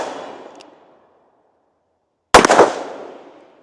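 A Smith & Wesson Model 19 revolver firing single action fires one sharp, loud shot, preceded by a fading tail of an earlier report. The blast decays over about a second in an outdoor setting.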